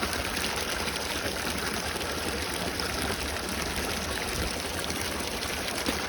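Water in a village stream flows with a constant, moderately loud rushing and trickling wash, with no talking.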